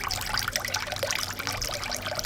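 Coconut water is poured from a coconut into a large cup, a close, steady splashing trickle lasting a couple of seconds with no voices.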